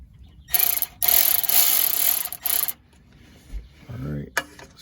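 A ratchet tightens transmission pan bolts on a Ford Expedition in quick clicking bursts, close and fairly loud, with pauses between strokes and a brief voice near the end.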